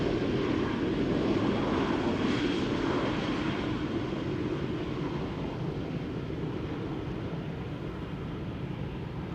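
A KLM Embraer jet arriving at Schiphol Airport gives a steady, loud roar of engine noise close by, holding level and slowly fading slightly as it passes, with no voices.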